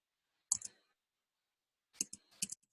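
Mouse clicks on a sign-up button: one sharp double click, a pause, then a few more quick clicks, close and quiet with no talk.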